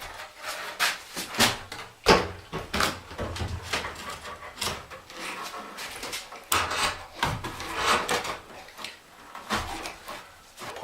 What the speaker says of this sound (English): Now we're going to turn our attention on placing this door again.